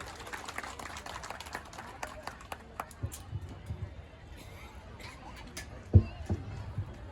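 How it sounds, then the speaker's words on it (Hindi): Sparse, scattered clapping from a crowd at a mass wedding (nikah) program in Madhya Pradesh, with quick hand claps in the first few seconds that thin out into background murmur, plus a single heavy thump near the end. "एक बार सनोर पटेल साहब के लिए जोरदार ताली बजाइए आप लोग।"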